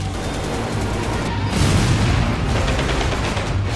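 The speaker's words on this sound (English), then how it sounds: "We are taking heavy enemy fire." Heavy gunfire erupts in a military video game, with dense, continuous volleys of shots and booms blending into a loud, unbroken roar, no voices audible.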